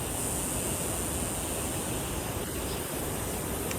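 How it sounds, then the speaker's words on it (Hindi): A waterfall on the Khundi Mata pilgrimage route gives a constant, even rush of falling water, a broad steady roar that never pauses. "सुंदर झरना प्रकृति का एक"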